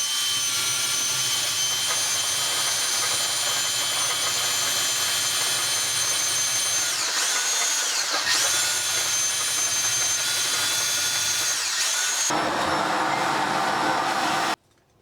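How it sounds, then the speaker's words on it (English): A power drill bores a fixing hole into a wall for a floating shelf, whining steadily and loudly for about twelve seconds, dipping briefly as pressure shifts, then changing pitch before cutting off abruptly. "we just need to drill the second fixing hole through there."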